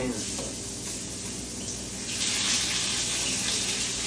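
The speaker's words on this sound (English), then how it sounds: "So we're gonna add that to the sizzling oil here" Steady hissing and crackling of chicken frying in hot oil in a pan, growing a bit louder midway, with faint clinking in the background.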